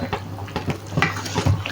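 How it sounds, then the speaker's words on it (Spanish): A spoon stirs a pot of minestrone soup with nutmeg and black pepper added, giving several quick scraping and sloshing strokes close up against the pot. "Mezclamos"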